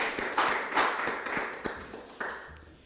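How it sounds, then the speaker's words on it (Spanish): Scattered clapping from a church congregation honoring fathers on their day, a handful of separate sharp hand claps spaced irregularly over a soft background, fairly close and without voices. "Denle un fuerte aplauso ahí en sus hogares"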